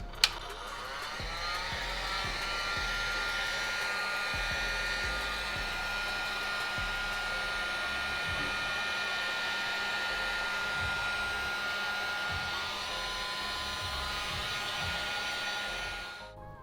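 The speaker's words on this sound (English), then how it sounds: "we're gonna heat this up with the heat gun. We're gonna start off with the sole first" A heat gun blows steadily while shrinking wrap around a sneaker sole, a constant close whooshing whine that runs unbroken for the whole stretch, with faint handling knocks underneath.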